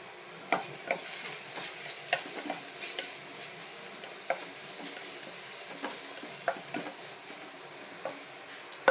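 Onion, ginger and garlic sizzle softly in a pan while a spoon stirs them, with repeated light scraping clicks scattered through a steady frying hiss, close and fairly quiet.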